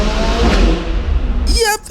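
A McLaren 600LT in Forza Horizon 5 drones loudly at full throttle, its engine note rising steadily before an abrupt cut as it shifts gear, all close and continuous.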